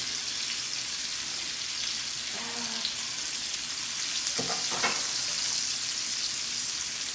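Apples cook and caramelize in a pan for a pizza topping, producing a constant close sizzling hiss with a couple of brief clinks and stirring sounds, no speech.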